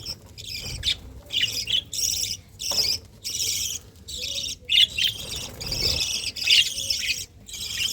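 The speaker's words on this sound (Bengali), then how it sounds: "আপনারা ভিডিওর আসলে একটা সাউন্ড পাচ্ছেন যে বাচ্চার কিচিরমিচির" Baby birds in a breeding colony give repeated bursts of high, shrill chirping, each lasting well under a second and separated by short pauses, close and fairly loud with no talking.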